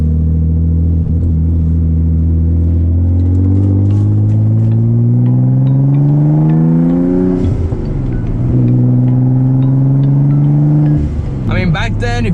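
Under steady driving, a twin-turbo Nissan 300ZX pulls loudly through the gears, its exhaust droning and climbing with rising pitch, dipping at a shift, then surging again before a sharp burst of noise at the end; a voice talks over the engine.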